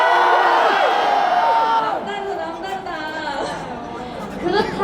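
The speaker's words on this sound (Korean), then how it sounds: "함성 소리도 너무 멋있는 것 같아요" A large school crowd roars and shouts together at a performance, a loud sustained wave of voices that slowly eases off, then swells briefly again.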